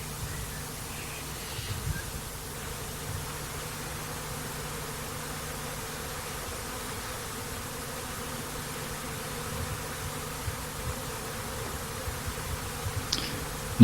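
Honey bees buzz softly and steadily around an open queen-rearing hive, a faint continuous drone with a few closer wingbeats passing near the end.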